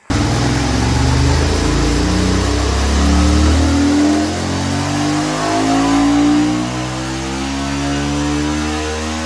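A 2025 Honda CB750 Hornet motorcycle engine revs hard and loud, its exhaust note rising and falling in a few long sweeps before settling into a steadier rumble.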